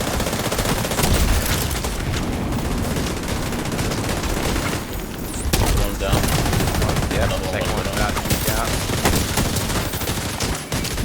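Rapid automatic gunfire from The Division 2 rattles in dense, loud bursts almost without pause, layered with heavy combat noise and brief near-quiet dips, sounding close and continuous throughout.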